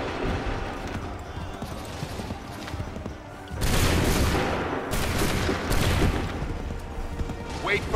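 Musket volleys crack out in the video game Assassin's Creed 3. Loud, sharp bursts of massed fire erupt in quick succession after a quieter stretch of background battle noise.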